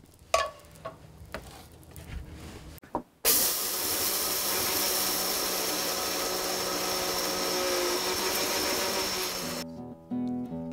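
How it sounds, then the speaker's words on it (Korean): Rice grains roasting in a pan for Tongyeong-style yakgwa, a steady loud hiss and sizzle of stirring and toasting that runs continuously for several seconds after a few brief clatters, with no talking. "통영약과 만들기는 쌀을 노랗게 볶는 것으로 시작되는데요"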